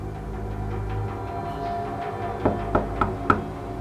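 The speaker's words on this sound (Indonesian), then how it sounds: "Terdengar suara ketukan pintu lagi" Four sharp knocks on a door come late at night in a horror story setting, spaced evenly and fairly close over a low steady hum.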